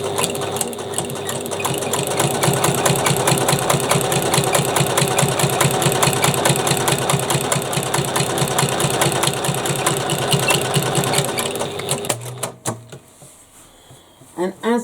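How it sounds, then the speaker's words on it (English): A sewing machine runs steadily for about twelve seconds, stitching bag gusset pieces placed right sides together at a quarter-inch seam, its rapid even needle chatter loud and close before stopping abruptly, then a few brief clicks. "we're going to stitch at 1/4 inch seam allowance"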